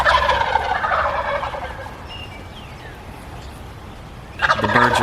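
Wild turkeys gobble from the roost at dawn, with one rattling gobble at the start and another near the end, clear and fairly close, and a quiet morning background between them.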